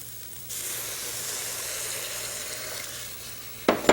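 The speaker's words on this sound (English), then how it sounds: "Let's add our milk" Milk poured into a reducing carrot mixture in a hot pan, a sudden steady sizzling hiss that starts abruptly and holds for several seconds before a brief clatter at the end, with no voices.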